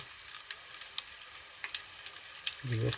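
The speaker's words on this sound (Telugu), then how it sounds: "నూనె కొంచెం వేగాక ఉల్లిపాయలు వేసుకోవాలి ఇలా ఉల్లిపాయలు వేగిన తర్వాత" Onions frying in hot oil as the base of a Telangana-style fish curry, a steady close crackle with scattered sharp pops, then a brief louder stirring or scraping noise near the end.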